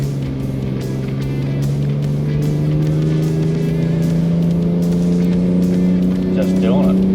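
Ford Ranger Raptor climbing a 12% gradient hill in drive while towing, heard as a loud, steady engine drone whose pitch rises slowly, close up throughout.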